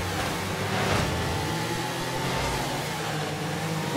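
In the Rocket League video game, a car engine holds a continuous, even drone with a slight swell near the middle, steady and unbroken throughout.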